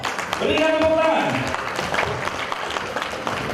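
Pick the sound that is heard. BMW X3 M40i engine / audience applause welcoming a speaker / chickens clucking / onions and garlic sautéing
audience applause welcoming a speaker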